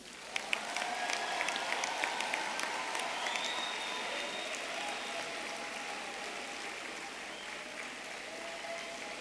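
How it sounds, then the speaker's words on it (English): A crowd at a DUT university graduation ceremony in Durban applauds the graduating class, a broad, distant hiss of many hands with a few sharper claps early on, plus a faint tonal whine. "A big round of applause."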